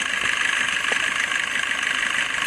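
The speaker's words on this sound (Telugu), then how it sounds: "ఇంజిన్ సౌండ్ కూడా మీరు చూసుకోవచ్చు." A Maruti Swift Dzire ZDI diesel car engine runs at a steady idle, a constant close hum with broad mid and high hiss and no talk over it.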